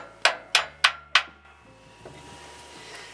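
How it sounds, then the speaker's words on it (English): Four sharp metallic hammer-like knocks in quick, steady succession as steel pins are driven back into a hydraulic cylinder on a Koyker loader mounted on a Terraplane TD38 tractor, followed by faint shop noise. "Let's put these pins back in."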